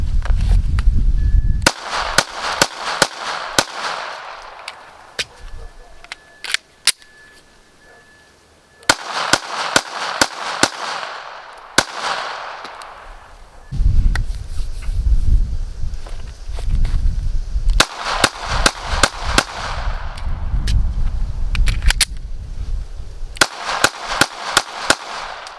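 A Taurus GX4 TORO pistol fired outdoors in rapid strings of sharp, loud cracks, several bursts of quick shots separated by pauses.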